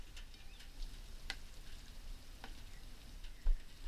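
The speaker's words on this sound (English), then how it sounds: "all the fat will come out of that and they'll start getting nice and crispy" Chorizo fries in a pan with a steady, soft sizzle and crackle as its fat renders out, with a few small pops, close by and without any talking.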